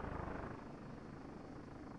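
Steady, loud rotor and engine drone of a Comanche helicopter in flight in the game Comanche 4, a continuous whirring roar with no speech.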